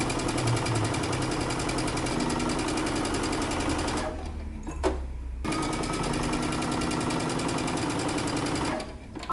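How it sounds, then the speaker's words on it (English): A sewing machine runs a 5/8-inch seam allowance around a dress, a loud close rapid needle chatter that pauses briefly twice before resuming. "now you're going to stitch using 5/8 of an inch seam allowance all the way around"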